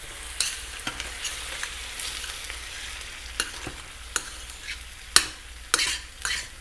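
Half a cup of cooking sherry simmers in a pan with browned food, a soft steady sizzle broken by occasional sharp clicks and scrapes of a utensil stirring.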